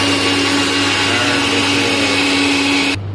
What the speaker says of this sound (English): So first we grind our onion.